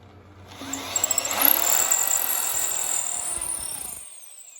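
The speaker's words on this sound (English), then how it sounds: "Pull out again. Don't drill right through." A power drill whirs up with a few quick pulses, then grinds steadily into a shofar horn for a few seconds before stopping.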